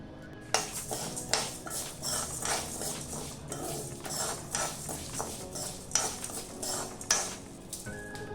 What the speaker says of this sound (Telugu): ఆయిల్ కాగాక ఇందులోకి పచ్చిశనగపప్పు, మినప్పప్పు, అలాగే ధనియాలు వేసుకొని వేపుకోవాలి.